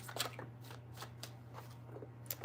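Tarot cards shuffled by hand at close range, a handful of quick, soft riffling bursts in a quiet room, faint and without talk.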